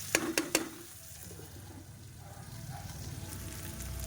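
Food frying in a covered pan, stirred a few times with quick scraping clatters at the start, then a soft, steady sizzle continues quietly alone.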